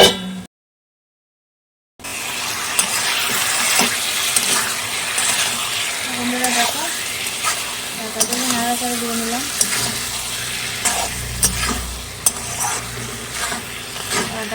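Spiced chicken fried and stirred continuously in a pan, with loud bubbling sizzle and repeated scraping, clinking stirs close by, after a brief silence at the start; a voice talks at times.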